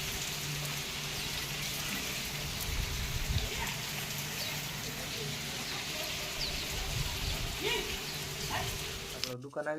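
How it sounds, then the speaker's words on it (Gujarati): Steady rain patters and hisses throughout, with a low hum and scattered voices faintly underneath. "વરસાદ ચાલુ છે"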